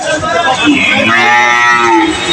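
A loud, close Friesian bull moo at a cattle market, a long drawn-out bellow with rising and falling pitch, standing out over faint background noise.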